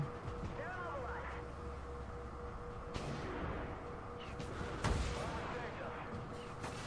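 Tank cannon fire aimed at a Leopard tank in a video game, heavy booming shots about two seconds apart over a constant rumbling engine bed, with someone talking throughout.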